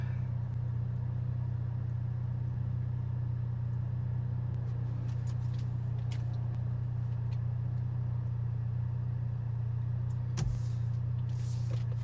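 Straight-piped Volkswagen MK7 GTI idling: a steady, deep exhaust drone that holds evenly throughout, heard from close by with faint background noise and no talking.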